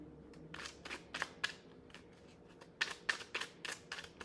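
Tarot cards are shuffled in a series of quick riffling bursts, crisp papery flutters repeating close by in an uneven rhythm with short pauses between them.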